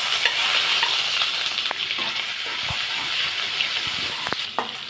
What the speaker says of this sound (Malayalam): പാനിൽ എണ്ണ ഒഴിച്ച് കൊടുത്താൽ അത് ചൂടായി അതിനകത്തേക്ക് ഇഞ്ചി വെളുത്തുള്ളി പേസ്റ്റ് ചേർത്ത് കൊടുക്കാം.